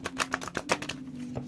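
Tarot cards being shuffled: soft papery riffling and light tapping clicks in quick irregular bursts, close by, fading into quiet handling near the end.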